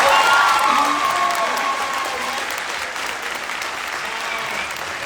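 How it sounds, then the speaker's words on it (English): A large audience of over 700 people at an event in Stockholm, Sweden applauds the organizing leadership, a dense wash of clapping with some cheering and voices mixed in, gradually easing in loudness. "can we give a huge round of applause to the leadership that put this all together?"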